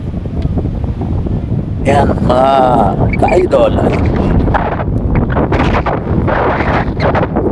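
Strong wind buffets the microphone on Tinawagan Hills, a loud steady roar through the whole stretch while someone talks over it.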